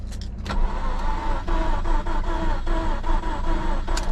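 A car engine with a weak battery cranks over repeatedly in a slow, labored rhythm, each turn sounding close and dull, with no voices.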